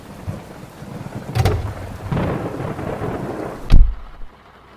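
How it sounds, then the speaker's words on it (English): Heavy rain falls over a city while thunder cracks and rumbles, with two sharp nearby claps and a loud final boom over the steady downpour. "more than a spot of rain."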